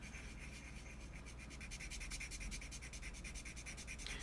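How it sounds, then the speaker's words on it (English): Steady rhythmic scraping of a 400 grit sanding block rubbed back and forth on a surface, close up and continuous, with no talking. "So this is 400 sanding block"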